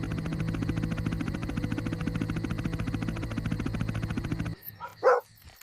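A dog gives a couple of short barks near the end, after a long stretch of droning, buzzing background noise.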